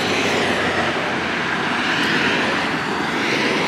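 Heavy traffic passes on a nearby road outdoors as a loud, continuous roar that stays fairly even for the whole few seconds, with no one talking.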